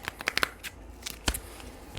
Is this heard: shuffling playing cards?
yes